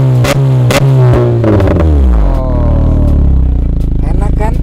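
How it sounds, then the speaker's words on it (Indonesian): A Honda HR-V engine with an ORD aftermarket full-system exhaust revs hard up close, its pitch sweeping down as it settles into a deep, throbbing burble. "Suara dari knalpot ORD ini."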